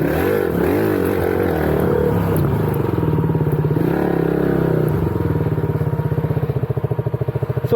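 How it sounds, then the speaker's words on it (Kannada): A lightweight motorbike revving hard during a wheelie outdoors, engine note climbing and pulsing in rapid throttle bursts, loud and close with a rattling edge. "ಒಬ್ಬ ಗಾಡಿ ವೀಲ್ ಹೊಡಿತಿದೆ"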